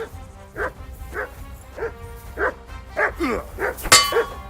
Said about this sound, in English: Help me with this dog!